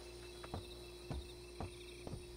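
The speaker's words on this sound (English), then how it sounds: "we still have the sound of the cicadas and everything, the nightlife." Night insects buzz steadily in a Splinter Cell: Pandora Tomorrow embassy level, a constant high drone with a few soft thuds at regular intervals underneath, no talking.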